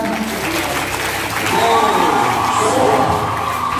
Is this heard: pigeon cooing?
no